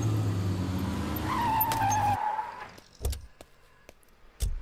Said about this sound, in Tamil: உன் இஷ்டத்துக்கு நடு ரோட்ல வண்டி நிறுத்துறியா?